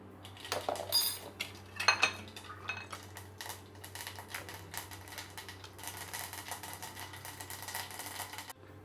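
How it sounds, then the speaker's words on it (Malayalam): Mustard seeds in hot coconut oil give off quick, irregular crackling pops and a few sharper clicks, fairly faint and close, that spread into a thinner sputter later on. "കടുക് പൊട്ടി തീർന്നിട്ടുണ്ട്."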